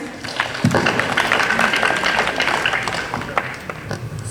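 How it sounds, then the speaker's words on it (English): School assembly audience clapping hands together, a dense patter of many claps at moderate loudness filling the space, with some voices mixed in. "Please clap your hands."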